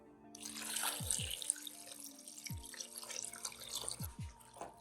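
Beef broth pouring into a slow cooker for low carb taco soup, a close liquid gush and splashing stream with a few glugging bubbles, continuous for several seconds with no voices.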